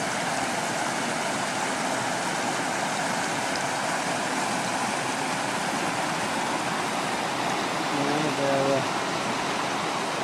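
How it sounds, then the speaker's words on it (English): A small babbling brook runs over rock formations outdoors, producing a steady, close rush of water for the whole stretch, with a brief murmur of voices near the end. "Beautiful little babbling brook, isn't it?"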